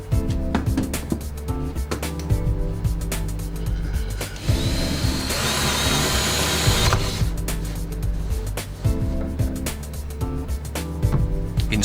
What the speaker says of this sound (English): then drill the 4 bolt holes